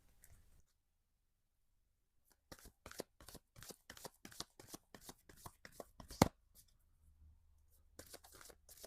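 Oracle cards for a tarot reading are shuffled in a quiet room. After a stretch of silence comes a rapid run of crisp, papery riffling clicks, close and soft, then a faint lull.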